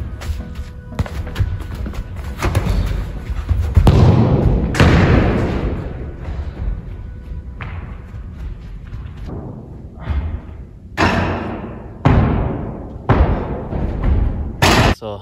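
A soccer ball is kicked repeatedly during a college player's individual shooting practice, with loud, close thuds recurring irregularly throughout, some strikes sharper than others.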